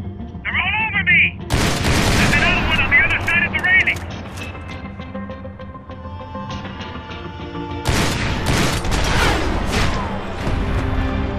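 Gunshots in Max Payne 3, loud bursts of fire and impacts mixed with game sounds and talking, heaviest early on and again near the end.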